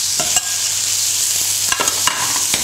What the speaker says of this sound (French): Dans une poêle chaude, avec une noisette de beurre, je vais faire rôtir les salsifis.